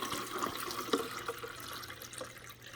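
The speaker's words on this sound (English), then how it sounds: "I'm just going to pour the vinegar in all the way to the max line." White vinegar pours into the reservoir of a Keurig B70 Platinum coffee maker, a close, steady gurgling splash of liquid into plastic with small bubbling bursts, no talking.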